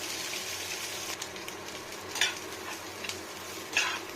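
Fish roe frying in mustard oil with chilli powder and green chillies, a soft, steady sizzle with a few sharp scrapes of a spatula against the pan, no speech.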